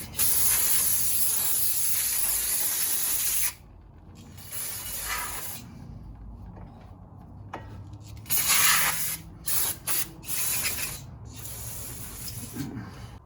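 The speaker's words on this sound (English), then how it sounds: "I'm gonna go ahead and clean the rotor since I've got all kinds of grease on it" Aerosol brake cleaner sprayed onto a greasy brake rotor on a 2006 Toyota Avalon during driver-side CV axle work: a loud, steady hiss for a few seconds, then shorter bursts of spray mixed with clinking metal handling.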